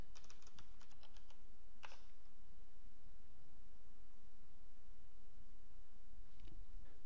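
Quiet, quick keyboard typing: a short burst of key clicks at the start, a few more taps later, over faint background hiss.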